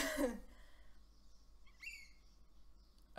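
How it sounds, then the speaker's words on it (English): A faint bird call chirps once in the distance amid quiet background hiss, after a brief rustle at the start. "that was a bird."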